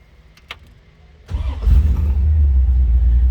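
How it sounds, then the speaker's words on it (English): A 1955 Chevrolet 210 engine cranks briefly, then catches and settles into a loud, steady low rumble, preceded by a few faint clicks and small handling noises. "See how easy that starts, and this car sounds just amazing."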